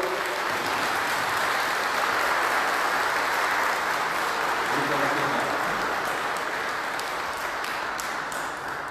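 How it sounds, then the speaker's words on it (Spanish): Congregation applauding at a First Communion Mass, a dense, steady wash of many hands clapping that fills the church evenly from start to finish with no voices over it. "Un buen aplauso para ellos."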